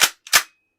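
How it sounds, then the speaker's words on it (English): Two sharp mechanical clacks in quick succession as a shotgun's pump action is racked, crisp and close with silence after. "know that sound is a shotgun"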